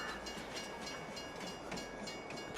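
A train in a video game rumbles and clatters steadily as it slows toward a stop, a faint continuous mechanical drone with soft rhythmic clicks and no voices.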